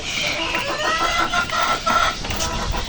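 Chickens and quail cluck and chatter steadily at close range around an egg-collecting spot, a busy overlapping flock sound with no talking.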